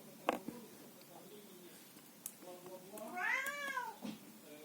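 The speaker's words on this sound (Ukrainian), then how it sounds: "Мій кіт м'явкає." A cat meows a few times, with one longer, rising-and-falling meow near the end, fairly close and clear over light background noise.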